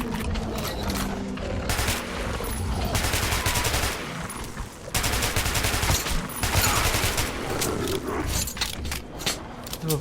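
Revolver shotgun from the Metro 2033 video game firing repeatedly, loud dense blasts with mechanical clicks and rattles between shots, a continuous battle din with no speech.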